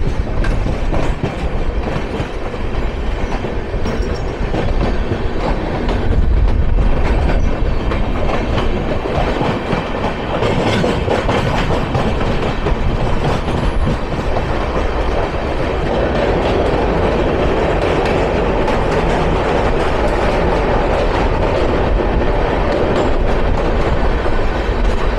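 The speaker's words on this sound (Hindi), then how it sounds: "ये रही तेलंगाना एक्सप्रेस जो कि तमिलनाडु के पीछे चलती है।" Telangana Express passing close by on Indian rail, a loud, steady rumble of wheels and carriages with rhythmic clatter lasting throughout, with no talk over it.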